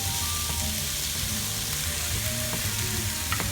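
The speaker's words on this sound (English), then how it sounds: "my onion, pepper, still cooking" Sliced onion and pepper frying in a pan, a steady close sizzle with faint crackles and small pops throughout.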